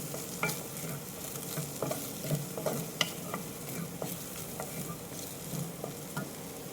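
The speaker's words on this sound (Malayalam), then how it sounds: "നന്നായി വഴറ്റിയെടുക്കാം." Vegetables sautéing in butter in a pan, a soft, quiet sizzle under repeated light scraping and tapping of a stirring utensil at an uneven rhythm.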